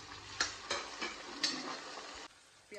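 Chopped tomatoes frying and being stirred into vegetable seviyan with carrots, beans and green chilies, a steady close sizzle broken by several sharp spoon taps and scrapes against the pan, with no talking.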